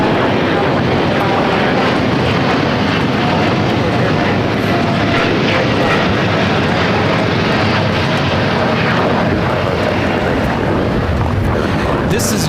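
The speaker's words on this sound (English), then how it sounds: "This is United Airlines 231 taking off to London Heathrow on the 787-9 Dreamliner." A United Airlines Boeing 787-9 Dreamliner takes off from LAX bound for London Heathrow, its broad, steady jet roar filling the scene loud and unbroken throughout.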